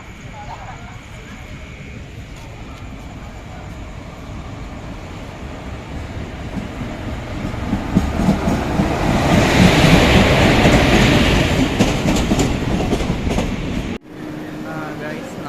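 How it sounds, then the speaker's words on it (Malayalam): A passenger train rolls into Kannur railway station at about 1 pm, a loud continuous rumble and rattle of wagons that swells in the middle, then cuts off abruptly near the end. "ട്രെയിൻ വരുന്നു"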